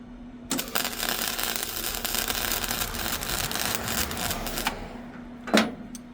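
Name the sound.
welding metal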